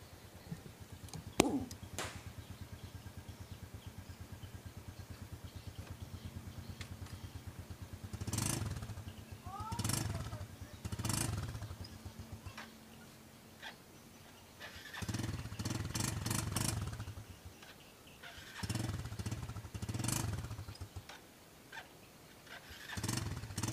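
A motorcycle with freshly replaced clutch plates idles faintly at a distance, with a sharp clank near the start and several short revs rising and falling over the idle.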